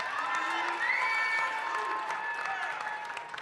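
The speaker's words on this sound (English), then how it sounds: "Y'all, can we give Spencer a round of applause," A school crowd claps and cheers for student leader Spencer, steady applause mixed with whoops and raised voices filling the room throughout.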